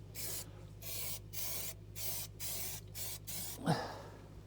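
Short bursts of aerosol spray paint hissing on and off onto a new battery box for a Caterpillar 428, about six blasts with brief gaps, close and steady, followed by a faint thump.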